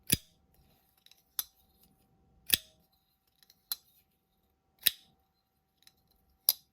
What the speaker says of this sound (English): And a really nice closing sound as well. A lovely little shwick.